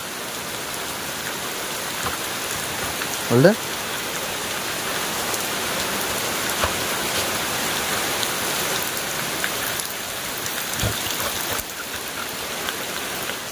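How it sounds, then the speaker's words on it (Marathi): Heavy rain falls at night in a steady, dense hiss that never lets up, with one brief voice and a couple of faint knocks under the downpour. "पाऊस पडतो रे"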